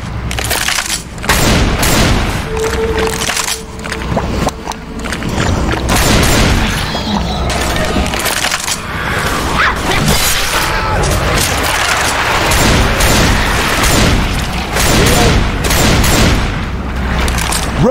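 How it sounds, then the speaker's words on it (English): Gunfire and booming explosions from a shooter video game pound almost nonstop, loud and dense, while voices talk over the action. "Why in the hell you guys keep shooting me?"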